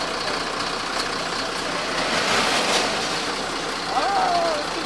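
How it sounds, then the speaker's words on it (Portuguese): A truck engine idles in a steady, fairly loud drone throughout, with a brief higher whine near the end and people talking nearby. "caminhão fazendo barulho."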